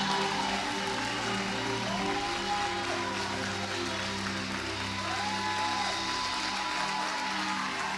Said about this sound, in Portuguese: Se você vai aplaudir ao Senhor pelo milagre, por favor, reaja.